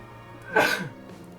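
A single sharp sneeze bursts out, brief and close, preceded by a short inhaling build-up.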